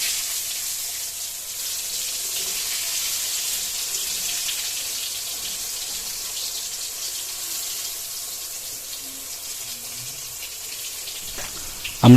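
Slices of dark eggplant fry in very hot, spattering oil for a vegetarian khichuri meal, making a steady, close sizzling hiss that continues without pause, with no talking.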